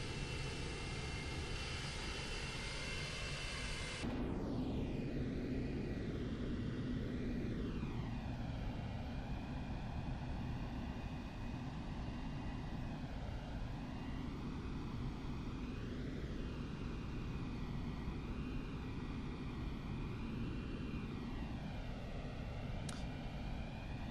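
Concorde jet engines on approach in the Prepar3D flight simulator game: a steady, loud, unbroken turbine roar with a shifting whine that runs the full length, alone without talk.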